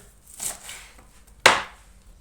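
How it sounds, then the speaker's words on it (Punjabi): A knife finely chopping onion stalks on a board: two or three sharp, close cutting knocks, the last one the loudest, separated by short quiet gaps. "ਇਹ ਆਪਾਂ ਨੇ ਭੁੰਕਾਂ ਲਈਆਂ ਇਹਨਾਂ ਨੂੰ ਬਰੀਕ ਬਰੀਕ ਕੱਟਾਂਗੇ"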